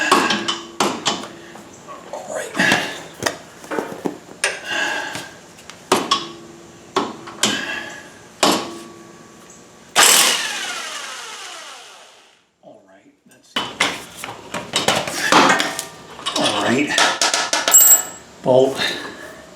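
A Bauer impact wrench with a 5/8 socket works loose the PTO clutch bolt on a John Deere mower, firing repeated sharp hammering bursts, then a longer whirring run, with further rattling impacts after a short pause.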